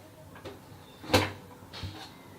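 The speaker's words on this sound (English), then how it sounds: "remove the weight and open the cooker" A pressure cooker holding pumpkin is opened after its pressure has released. The weight comes off and the lid is lifted, making a few soft metallic knocks and one sharper clatter, close and fairly quiet, with no talk.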